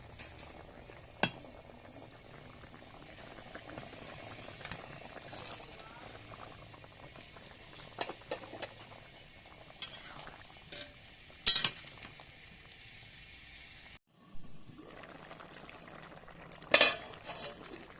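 Bhangan fish curry boils in a pot with a low, continuous bubbling, dotted with occasional utensil clinks; the sound briefly cuts out near the end before the bubbling resumes.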